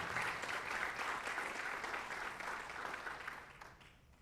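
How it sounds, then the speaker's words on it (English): Audience applause at a high school spring signing day, a steady even patter of many hands clapping at moderate distance, fading toward the end. "let's give a round of applause for Liberty Novak as she signs her letter of intent to stunt at Mercyhurst University"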